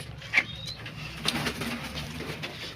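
Lakkha pigeons coo inside their breeding loft, low murmuring calls near and moderately quiet, with a few brief sharp chirps and faint background noise.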